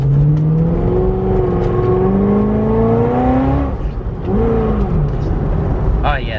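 A C6 Corvette revs hard on a wet road as its tires lose traction, the engine note climbing and wavering in rising sweeps before easing off and surging again, loud and close from inside the car.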